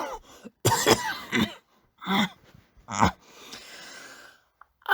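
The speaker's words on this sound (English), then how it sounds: "She coughed into her hand, then coughed again." Several separate coughs and throat clears, close and fairly loud, with short quiet pauses between them and a breath at the end.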